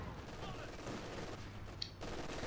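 Machine gun fire from emplaced MG positions in the World War II strategy game Company of Heroes 2, a dense, continuous rattle of distant gunfire mixed with battle noise throughout, with a sharp crack near the end.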